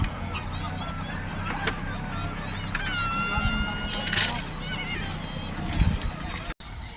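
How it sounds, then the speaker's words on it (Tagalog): Many birds call over each other, honking and whistling with varied pitches under steady background noise, while a person speaks briefly. "Daming ibon oh."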